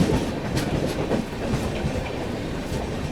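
Chennai Express passenger train arriving at Kalyan Junction, heard from on board as a steady, loud rumble of rolling wagons with a clickety-clack of wheels over rail joints.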